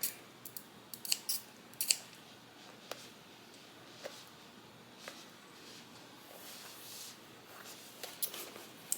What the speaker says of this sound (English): then I'll come back and cut them going this way